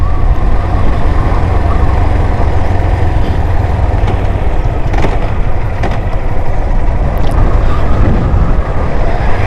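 Motorcycle climbing a winding hilly mountain road toward Keokradong, about 3,172 feet above sea level: a loud, steady engine drone with heavy wind rumble, faint shifts in pitch, and no talk.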